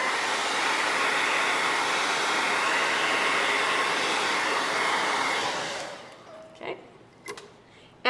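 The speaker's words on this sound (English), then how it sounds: "That's awesome sauce for the blow dryer." A hair dryer blows steadily up close to dry paint on a stenciled faux wood sign, a loud continuous rush that cuts off near the end, leaving a few faint clicks and handling sounds.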